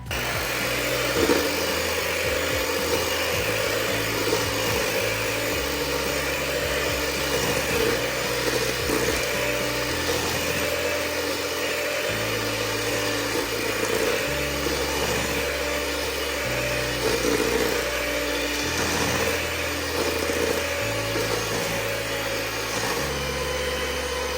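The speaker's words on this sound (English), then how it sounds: "I'm going to beat this with an electric mixer for about 1 minute until it's nice and mixed" An electric mixer beats cookie batter with a steady, continuous whirring drone that holds at a fairly loud level, with small shifts in pitch as the beaters move through the dough.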